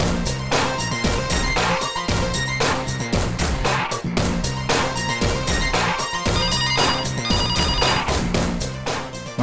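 An office telephone rings in a loud, insistent electronic pattern of rapid repeated trills, close and continuous with brief pauses, and no talk over it.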